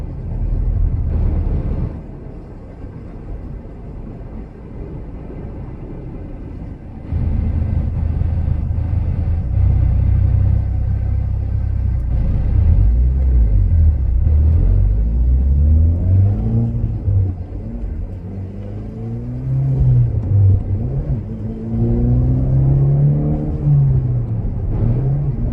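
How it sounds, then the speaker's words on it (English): A Mitsubishi Lancer Evo X exhaust rumbles and burbles steadily while the car is driven, with the engine note rising and falling through gentle revs and no talking. "This car burbles like crazy."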